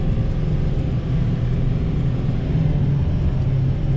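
2019 Ford F-750 dump truck engine pulling steadily while accelerating through its gears, a loud, continuous low rumble with no talking.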